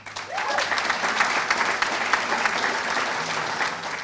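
An audience claps steadily through a high school athletic hall of fame ceremony, dense and continuous with no voices on top.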